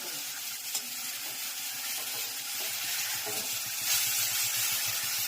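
Steady, crackling sizzle of spices in hot oil for a leafy greens dish, continuous and fairly close, with faint stirring noises underneath.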